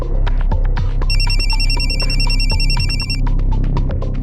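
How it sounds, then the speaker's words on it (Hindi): Telephone ringtone sounding in a home, an electronic repeating warble in several quick pulses, loud and close over background noise, with a shorter repeat near the end. "फोन आ गया तुम्हारा?"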